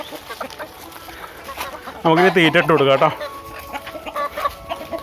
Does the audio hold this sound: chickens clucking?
yes